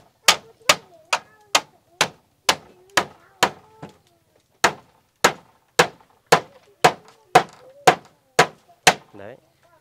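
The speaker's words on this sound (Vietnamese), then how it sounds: "Lấy cái đinh về đây anh đóng cho." Sharp, loud hammer strikes drive nails into a wooden board, landing in a steady series of about twenty close blows with one brief pause, and a voice speaks faintly between hits.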